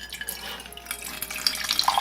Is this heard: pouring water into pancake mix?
yes